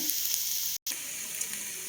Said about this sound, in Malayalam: അപ്പോൾ കൂൺ ഇതിലേക്ക് ഇട്ട് നമുക്കൊന്ന് വഴന്ന് വരട്ടെ.